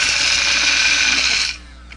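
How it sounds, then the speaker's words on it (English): A small Try Best personal blender grinds spices with a loud, steady high-pitched motor whir for about a second and a half, then cuts off abruptly, leaving quiet. "So I'm using my little Try Best personal blender."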